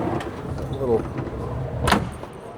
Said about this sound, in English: As you can watch the step here as I shut the door